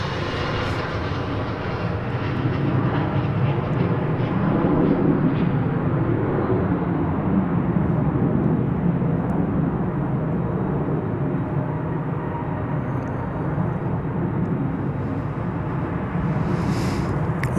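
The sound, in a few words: Airbus A320 airliner arriving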